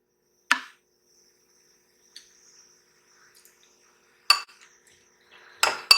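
Spoonfuls of orange juice go into a bowl of dry fruit cake batter, marked by a few sharp, isolated clinks of a spoon against the bowl, with long quiet gaps and a cluster of taps at the end.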